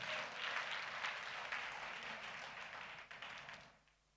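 A church congregation at a New Year service claps together in a steady burst of applause that fades out toward the end.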